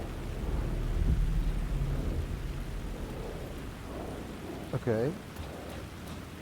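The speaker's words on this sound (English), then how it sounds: "The rain never stopped falling." Steady, dense rainfall with a low rumble of thunder in a stormy scene in the Alan Wake 2 video game; someone briefly speaks over it near the end.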